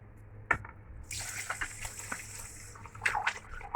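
Water runs from a tap into a pot of rice and milk in a home kitchen, a splashing pour that starts after a brief knock and continues with sloshing and small clinks, fairly faint and close.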